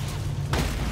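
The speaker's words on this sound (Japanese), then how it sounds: "爆発。" An explosion in the video game Deep Rock Galactic, a single dull boom landing halfway through over a loud rumbling game backdrop.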